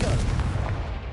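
A Confringo blasting spell goes off in the Hogwarts Legacy video game, a loud, rumbling explosive burst that lasts about a second.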